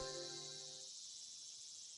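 Cicadas drone in the visual novel Higurashi: When They Cry, a faint, steady high-pitched buzzing that runs without a break, with a soft tonal chime fading out at the start.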